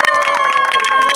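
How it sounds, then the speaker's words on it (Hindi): Crowd clapping and cheering at a swimming training workshop run by a disaster management authority in Kahalgaon, Bihar, a dense, steady burst of applause filling the moment with some voices mixed in. "इसके लिए जोरदार ताली।"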